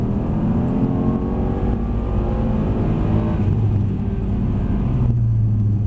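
Car engine at Mercedes-Benz World driving fast through a track corner, with a steady loud rumble and rising revs from inside the car, continuous throughout.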